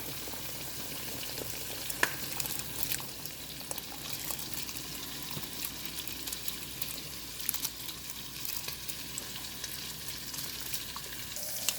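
Soaked rice goes into a hot pan for prawn fried rice, bringing a continuous sizzle with scattered crackles and light stirring clicks, close and steady without talk.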